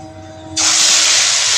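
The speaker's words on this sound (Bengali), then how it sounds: "চিংড়ি মাছ চলে গেল সব তেলে" Prawns dropped into hot oil in a kadai burst into a loud, steady sizzling hiss that starts abruptly after a quiet moment and holds strong to the end, with no talk over it.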